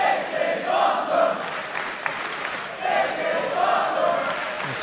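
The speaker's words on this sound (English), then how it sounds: "And listen to this crowd." Lucha Libre wrestling crowd in an arena cheering and chanting in loud, swelling waves that rise and fall continuously, with no voices standing out above the roar.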